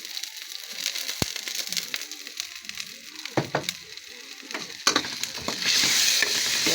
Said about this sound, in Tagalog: Kaya ginigisa ko po muna ng ganito po ako magsigang ng isda.